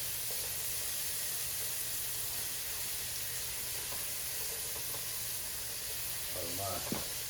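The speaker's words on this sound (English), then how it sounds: "we just occasionally stir until we can saute these vegetables down" Vegetables sauté in a pan for a spaghetti sauce, a steady broad sizzle and hiss that runs unbroken throughout, with a few faint clinks and stirring sounds near the end.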